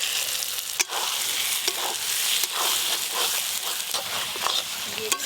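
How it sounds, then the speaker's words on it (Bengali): Fried eggs being stirred into a thick spiced masala gravy in a pan, a steady sizzle with repeated scraping strokes of the spoon and a few sharper knocks, close and continuous with no talking. "এবার ভেজে রাখা ডিমগুলো দিয়ে ভালো করে মিশিয়ে নেব একবার।"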